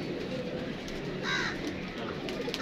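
Pigeons coo softly at a fancier's loft, low gentle calls repeating faintly over a quiet background.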